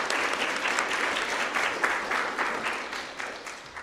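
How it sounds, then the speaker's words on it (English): An audience at a spring piano recital in a studio claps in a lively round of applause, dense and fairly close, gradually thinning toward the end. "So we'll give them a round of applause as well."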